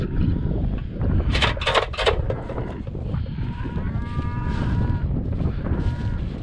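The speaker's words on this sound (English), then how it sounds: "Cattle." Cattle moo loudly nearby, a long lowing call rising over clattering and knocking noises, with a few sharp metallic bangs early on.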